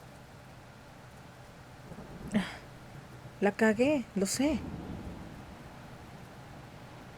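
Steady rain and storm noise from a thunderstorm in a 2021 western film, running under a man's brief, quiet speech.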